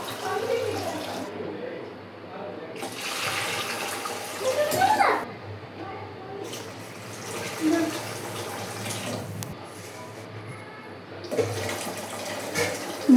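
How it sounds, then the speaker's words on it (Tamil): Water pours steadily from a vessel into a metal cooking pot in a few separate bursts, splashing and gurgling close by, with quiet gaps between pours. "ஸோ நம்ம இப்போ இதில் வந்துட்டு 3 சொம்பு தண்ணி ஊற்றுறோம்."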